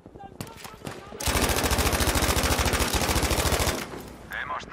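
Gunfire in Battlefield V: a few scattered shots, then a loud, fast automatic burst of rapid, evenly spaced rounds lasting a few seconds before tapering off into fainter game sounds.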